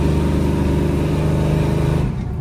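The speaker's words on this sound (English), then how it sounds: "after you rev the engine like that, make some vacuum" A 1973 Dodge Charger with a 440 big block V8 revs hard and steadily, a loud, dense engine roar held for about two seconds before it starts to drop off.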